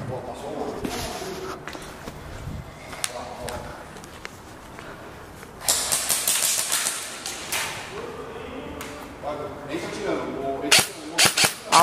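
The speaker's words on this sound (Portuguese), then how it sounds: "tem vários tiros lá do mezanino" Scattered sharp pops of airsoft gunfire during a team deathmatch game, some near and some distant, including shots from a mezzanine, with people talking over them and footsteps moving around.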